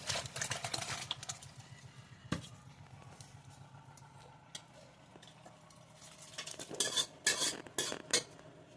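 Cooked mutton is stirred into a pan of roasted homemade black masala, a spoon scraping and clinking against the metal pot in quick, steady rhythmic strokes, with louder clattering near the end.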